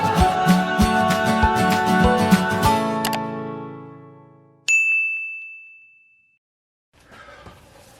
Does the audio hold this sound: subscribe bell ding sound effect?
yes